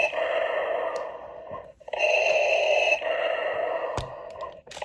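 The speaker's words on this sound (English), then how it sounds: "So all we have is breathing." A Star Wars Black Series Darth Vader roleplay helmet plays its mechanical breathing effect: a long, filtered inhale-exhale cycle repeating loudly and close, with short clicks between breaths.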